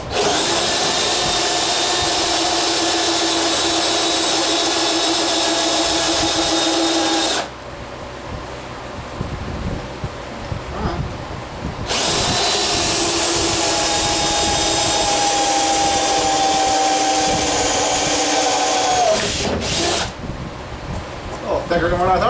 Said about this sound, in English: We'll get that in the drill.